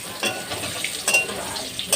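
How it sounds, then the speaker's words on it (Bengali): Potatoes stirred in a pan while making a thin fish curry with ridge gourd, a few soft scrapes and clinks of a spoon against the pan over a light sizzle, close and fairly quiet. "নেড়ে নেব।"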